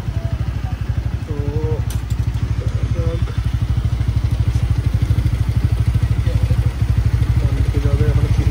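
A 160cc motorcycle idles at a red signal, its engine thumping in a steady, loud, close-up rhythm throughout, with a person's voice briefly audible over it.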